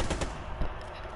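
Gunfire from a video game: a short, dense burst of rapid automatic shots, loud and close, lasting just over a second with no clear speech.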